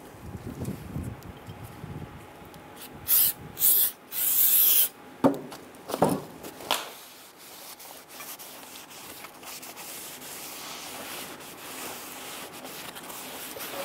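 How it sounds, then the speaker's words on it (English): Solvent sprayed in several short, loud hissing bursts onto a Ford Explorer rear brake rotor in a garage, followed by softer rubbing and wiping. "I'm going to go ahead and spray down our brake rotor with some solvent"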